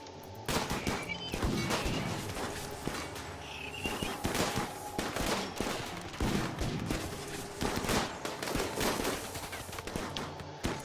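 Sustained gunfire in the video game RimWorld, with rapid bursts of shots crackling steadily over nearly eleven seconds, loud and close, with no talking.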